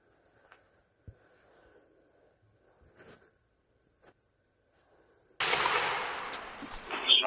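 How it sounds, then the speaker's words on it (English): A sudden loud burst of gunfire erupts after several seconds of near-silence broken only by faint scattered bumps and knocks, the shots sharp and close with a harsh sustained roar trailing after them. "Shots fired."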